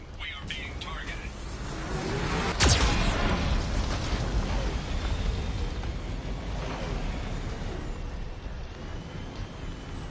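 Geth cannon fire and explosions in Mass Effect 2, a rumbling blast with a sharp burst near the start of a roaring, noisy wash that fades slowly, with no talk.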